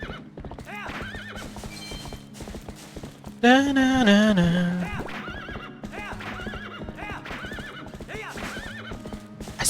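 A horse in the video game Twilight Princess clip-clops at a gallop in a steady rhythm, then lets out one loud rising-and-falling neigh partway through, with game music behind it and a person briefly humming along.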